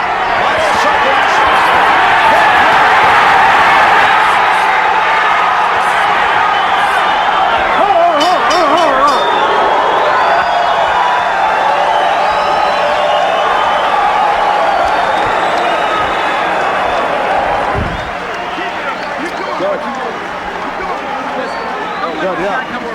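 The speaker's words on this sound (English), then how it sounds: "Is the crowd loud to you inside?" A boxing match crowd roars in a continuous loud arena din, steady cheering and hubbub that dips slightly near the end, with commentators talking over it.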